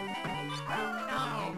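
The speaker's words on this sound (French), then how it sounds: "le chien ! Non ! Le pauvre, quand il pleure, c'est aussi parfait." A small cartoon dog whimpers in the WarioWare: Mega Microgames! game, several short pitched whines and yips in quick succession, clear and close.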